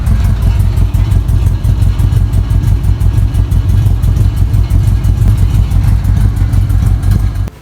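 A Volkswagen engine runs after its ignition switch has been replaced, giving a loud, close, steady idle with a rapid pulsing beat that cuts off abruptly at the end.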